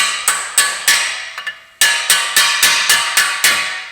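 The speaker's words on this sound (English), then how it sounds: "at this point we can now pin punch our drive shaft through our hub" A hammer strikes a steel pin punch to drive the drive shaft out of the front hub of a Ford Mondeo Mk5 during a wheel bearing job, a loud, close series of about a dozen sharp metallic blows in a steady rhythm with one brief pause.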